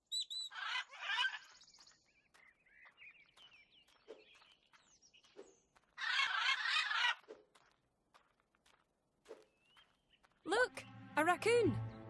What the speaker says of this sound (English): I think the bird's peckish.